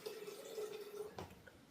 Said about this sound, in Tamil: சுடுதண்ணியே ஊற்றுவோம்.